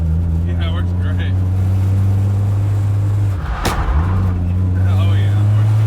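Nissan S14 car driving at speed, its engine giving a steady loud low drone with harmonic hum, briefly dipping around a passing whoosh midway before resuming.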